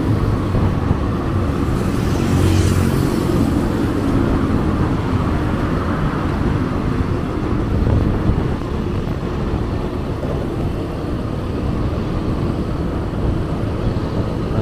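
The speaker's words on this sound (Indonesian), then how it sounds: "tampak lalu lintas ramai lancar ya." Busy but flowing traffic crosses the Pasupati flyover in Bandung, a continuous rushing roar of passing cars and engines with swells as vehicles go by close to the roadside, and no speech.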